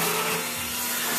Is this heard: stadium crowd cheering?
no